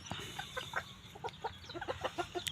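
Small bantam chickens cluck in quick, soft bursts, several birds chattering close by against a faint background hum.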